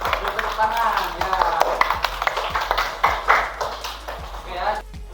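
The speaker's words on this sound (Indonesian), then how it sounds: "Tepuk tangan ya." Classroom of students clapping together during an informatics lesson, a dense patter of many hands mixed with children's voices and chatter throughout.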